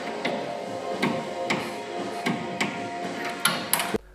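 A torque wrench tightens a fastener to 45 Nm. Sharp mechanical clicks and ticks repeat about every half second, close and distinct, with a louder clatter near the end.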